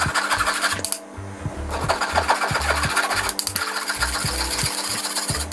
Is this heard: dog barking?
no